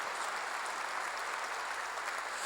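A church congregation applauds during a worship service, a steady, dense wash of clapping that holds evenly and fairly quietly throughout, with no voices on top.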